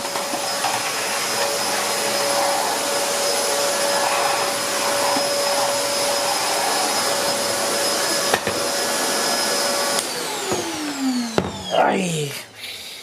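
Hoover Commercial PortaPower vacuum cleaner running indoors, a loud steady high whine and airflow rush that winds down near the end with a falling pitch and a few knocks.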